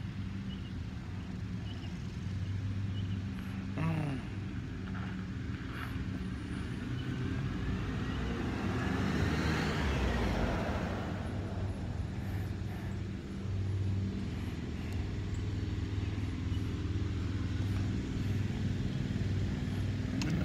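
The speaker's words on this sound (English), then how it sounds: "Same car driving back and forth." A car passes along a road, its tire and engine noise swelling to a broad peak midway and then fading, with steady low traffic rumble throughout.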